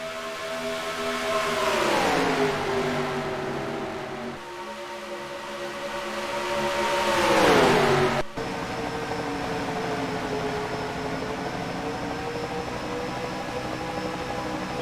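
Ford stock car engines in the racing game NASCAR Racing 2003 at Las Vegas Speedway whine steadily. Their pitch sweeps up and drops twice, then settles into an even, sustained drone.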